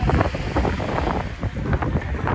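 Steady wind buffets the microphone beside the Golden Horn in Istanbul on a breezy evening, a continuous loud rumble mixed with faint water and harbor ambience and no talk.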